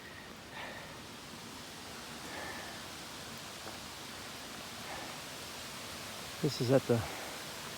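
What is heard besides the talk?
water rushing over a dam spillway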